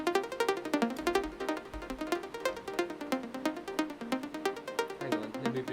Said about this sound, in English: Currently it's a saw bass sound,